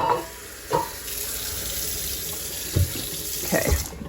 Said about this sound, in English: Oh, I forgot to water this basil.